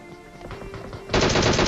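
A loud, close burst of rapid automatic gunfire from the PUBG battle royale game starts suddenly after a quieter stretch and carries on steadily to the end.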